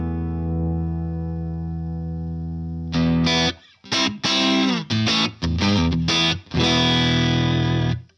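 A sustained, bright distorted electric guitar chord rings out through a Universal Audio Ruby 63 Top Boost tube amp on its Brilliant channel, then choppy strummed chords and riffs follow with short gaps between them.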